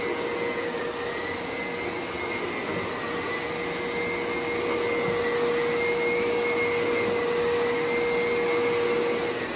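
A Clean Obsessed C0888 canister vacuum cleaner runs steadily throughout, a loud, continuous whine and airy rush with a fixed tone, swelling slightly louder partway through and never pausing.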